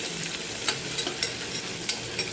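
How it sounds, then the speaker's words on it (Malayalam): Small onions frying in oil on a high flame, a dense close sizzle with a few soft stirring scrapes, brief and without any voices. "ഇത് ഹൈ ഫ്ലെയിമിൽ വെച്ച് തന്നെ ഇത് മൂപ്പിച്ചെടുക്കാം"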